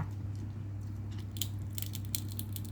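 Fresh cucumber is bitten and chewed close up, with several crisp crunches in the second half over a steady low hum, and no talking.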